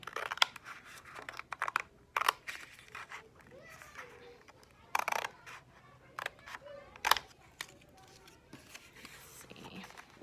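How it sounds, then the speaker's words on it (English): Scissors cut paper for a Day of the Dead nicho in short, crisp snips spaced a second or two apart, close and fairly quiet, with soft speech between the cuts. "I'm going to cut from the end of this cut to the end of this cut right here"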